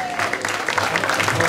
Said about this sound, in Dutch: Geweldig applaus voor de eerste drie